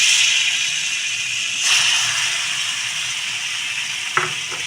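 Mashed olives frying in hot oil for an olive chutney, giving a loud, steady sizzle and hiss with a brief flare when stirred and a small clink near the end.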